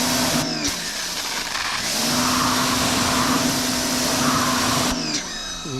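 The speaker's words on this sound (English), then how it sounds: "Let me grab the pressure washer real fast." A pressure washer sprays down the body of a 1987 Ford Thunderbird Turbo Coupe, a loud, steady hissing roar with a constant motor drone that runs nearly six seconds before cutting off abruptly.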